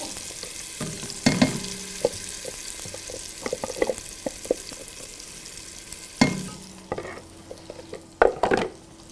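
Spice paste hits hot oil in a pot for turkey soup, giving a soft steady sizzle with scattered clinks and scrapes of stirring, one louder burst of frying near the end, close and moderately quiet.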